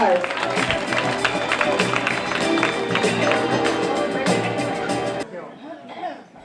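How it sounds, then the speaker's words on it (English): A pageant audience applauds and cheers a candidate during the presentation at a provincial beauty contest, loud crowd clapping with voices mixed in, ending abruptly after about five seconds. "let us give her a big round of applause"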